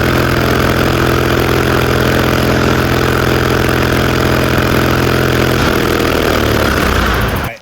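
A turbocharged 1941 Caterpillar D4 bulldozer engine runs steadily and loudly with a constant low drone, its tone dropping and roughening near the end before cutting out abruptly.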